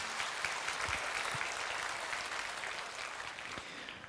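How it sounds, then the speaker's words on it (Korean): Congregation applauding during a Sunday worship service at a Korean church, a steady dense clatter of many hands filling the sanctuary at even loudness, alone without talk. "다시 한번 박수와 영광 평강을 드리겠습니다."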